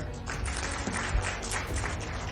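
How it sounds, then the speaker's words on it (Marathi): Audience applause at a Marathi-language event, dense continuous clapping from a crowd, fairly close and steady throughout with no speech on top. "सर्वात पहिले सारंगजींसाठी एकदा जोरदार टाळ्या"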